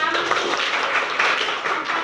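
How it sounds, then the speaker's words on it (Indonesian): A classroom of students claps together in a dense burst of applause that fills the room, loud and close. "Tepuk tangan dulu ya."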